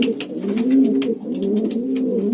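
Pigeons cooing close by during mating, with repeated soft throaty coos in a steady rolling rhythm. No voices are heard.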